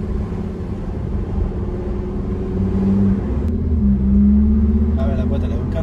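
A 2021 Lamborghini Huracan EVO on the road, its engine a steady low rumble that rises slightly as it accelerates smoothly, with people talking over it inside the car.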